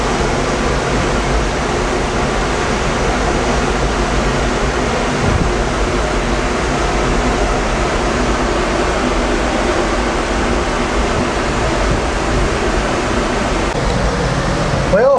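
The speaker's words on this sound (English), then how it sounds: "There's a close up of the falls." Spokane Falls on the river roar continuously as a steady, dense wash of rushing water, heard alone and fairly loud without pause.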